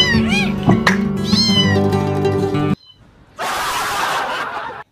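A mother cat meows repeatedly near her kitten, with several close, clear, wavering cries at the start, then a brief silence and a burst of softer rustling noise.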